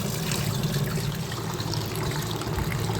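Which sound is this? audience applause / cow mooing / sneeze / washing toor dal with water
washing toor dal with water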